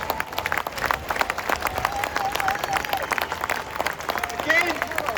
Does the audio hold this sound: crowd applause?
yes